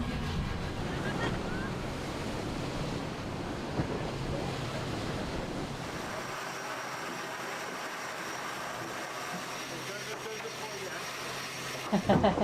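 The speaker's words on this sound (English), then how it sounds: "Pour l'instant, il y a du vent." Steady wind roars over the deck of a racing sailboat at sea during the Ocean Race Europe 2025, with waves washing alongside and faint voices underneath throughout.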